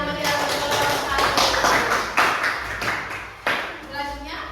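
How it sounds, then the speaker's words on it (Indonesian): A classroom group gives a few scattered claps and taps for a student group, irregular and close, with some thumps and voices in the room. "Beri tepuk tangan yang meriah untuk kelompok kami."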